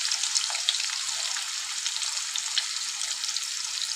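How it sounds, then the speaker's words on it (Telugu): Onions fry in hot oil for a cauliflower masala curry, giving a continuous, even crackling sizzle with fine popping throughout and no talk. "ఆనియన్స్ మాత్రం ఫ్రై అవుతున్నాయి"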